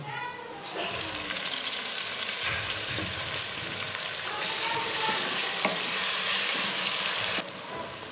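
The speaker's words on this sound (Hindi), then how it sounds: "इसको अच्छे से हम फ्राई करेंगे, टमाटर और जो प्याज है ये नज़र ना आए" Tomatoes frying in a pan with browned ginger-garlic paste and onion for a desi daal mash, giving a steady close sizzle with occasional stirring clinks.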